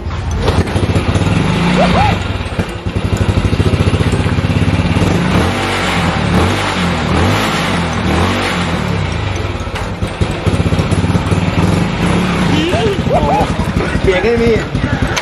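A Honda Dream Super Cup motorcycle engine running loud and close, a steady buzzing idle with occasional revs, with people talking over it.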